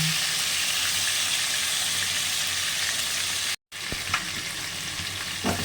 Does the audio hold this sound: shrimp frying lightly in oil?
yes